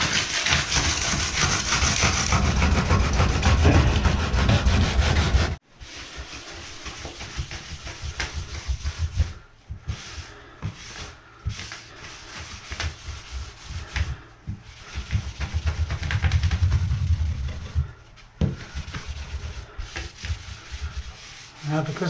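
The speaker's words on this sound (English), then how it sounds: "So we're going to sand all along here." Sanding a smooth bathtub surface along a crack ahead of fiberglass repair, loud rasping friction strokes in bursts with pauses between, close and prominent.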